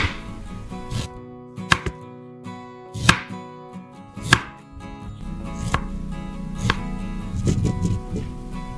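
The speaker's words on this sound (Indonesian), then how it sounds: "Halia, botong." A knife chops ginger on a board in irregular, sharp, close knocks, a few strokes spaced apart and then a quicker run, with no talking.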